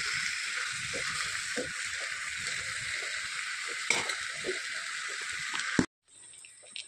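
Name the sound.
pouring into a hot wok and frying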